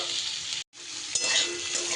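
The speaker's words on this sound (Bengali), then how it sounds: "আরও এক মিনিটের মতন আমি চিচিঙ্গেটাকে একটু ভাজা ভাজা করে নেব" Snake gourd frying in a pan, a loud close sizzle with stirring scrapes, broken by a brief moment of near silence before the hiss surges back stronger.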